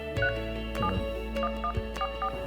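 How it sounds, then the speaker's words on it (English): Telephone keypad dialing tones from a phone's dialer app, a series of short distinct beeps pressed one after another in an irregular rhythm, close and clear over a steady background hum. "So I'm going to dial my own number here"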